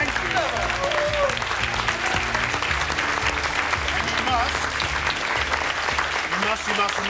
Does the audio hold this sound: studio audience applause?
yes